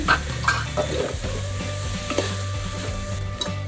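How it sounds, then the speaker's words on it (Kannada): Mint leaves and masala sautéing in hot oil in a pan for an egg biryani, a steady close sizzle with stirring scrapes throughout, no voices. "ಇದನ್ನು ಸ್ವಲ್ಪ ಎಣ್ಣೆಯಲ್ಲಿ ಬಾಡಿಸ್ಕೊಳ್ಳಿ"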